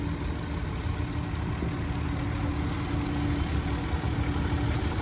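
A 1953 WD vintage tractor engine runs smoothly in a parade, giving a steady, dense low rumble that holds evenly throughout at moderate loudness, with no speech.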